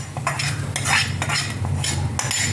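A utensil scrapes and stirs coconut roasting in a pan with a faint sizzle, a steady close clatter of repeated strokes and no talking.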